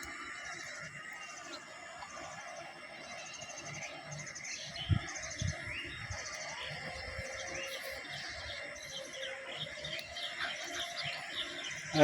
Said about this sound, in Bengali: এত অতিথি পাখি আসলে আর কখনো আমরা এখানে দেখি নাই